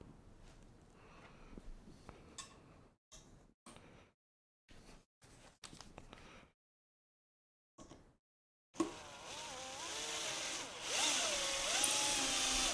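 A power tool drives screws into threaded inserts during guitar building in a woodworking shop, starting after several seconds of short scattered knocks and silences, then a loud, sustained whirring with its pitch rising and falling.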